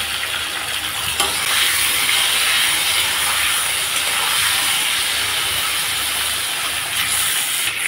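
Eggplant and green chilies added to potatoes frying in oil produce a steady, loud, close hissing sizzle with occasional stirring scrapes, lasting throughout with no talk.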